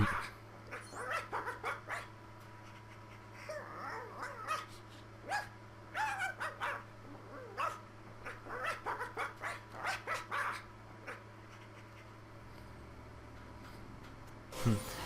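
Krypto the Superdog, a cartoon dog in the LEGO Batman 3 video game, gives a series of sharp, short barks and yelps in irregular bursts over steady game music and a low hum.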